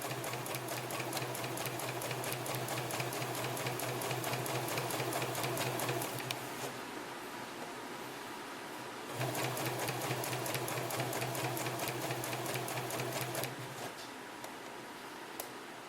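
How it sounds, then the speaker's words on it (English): A sewing machine stitching a seam runs in fast, even mechanical rattles, pausing briefly around the middle before starting again, close and clear with no talking. "And I will start sewing, and be sure you back stitch a little bit at the top to secure your thread."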